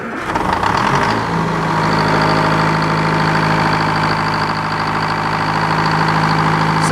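A sawmill engine cranks briefly, then catches and settles into a steady, loud, close idle that runs unbroken to the end.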